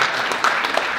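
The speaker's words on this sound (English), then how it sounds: "How about a big round of applause to Mr. Paul Wanish, that's in the back." Audience applause at a film Q&A event, a brief burst of steady, close clapping from a crowd.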